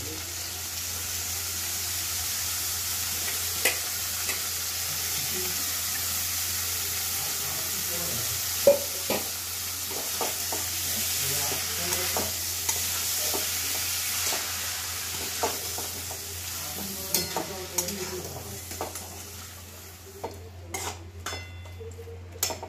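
Boiled banana flower stir-fried in a pan sizzles softly throughout, broken by repeated scraping and clinking of a spatula against the pan, with a low steady hum underneath.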